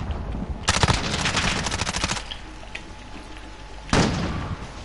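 Video game gunfire: a loud sustained automatic burst of rapid shots, then quieter scattered reports and a sudden sharp crack like a sniper shot near the end.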